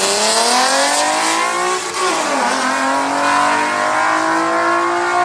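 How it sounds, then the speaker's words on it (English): A car engine revs hard with a rising, strained whine, dipping briefly then climbing again, loud and close. "nobody should be defending how bad this car sounds."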